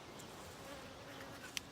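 Honeybees from a double brood nest hive buzzing during an inspection, a soft steady swarm hum with a few individual bees passing close by.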